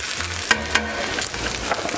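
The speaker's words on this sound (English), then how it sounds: "Shake the pan around, give it a flip." Garlic toasts in a hot pan with a bright, steady sizzle, broken by two sharp knocks as the pan is shaken and flipped, and the frying carries on close and loud afterward.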